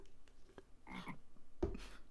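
Frog croaks in the video game X Life, a couple of distinct croaking calls standing out clearly over a low ambient background.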